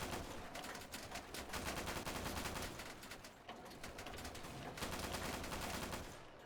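Tank machine guns rattle in rapid bursts during an Easy Red 2 battle against infantry, a loud, dense stream of automatic fire filling nearly the whole stretch with only brief dips between volleys.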